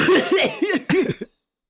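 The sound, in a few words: cough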